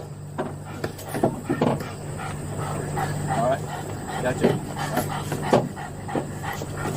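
A police bite dog pants and whimpers close by in rapid bursts, while officers talk over it and radio chatter runs in the background.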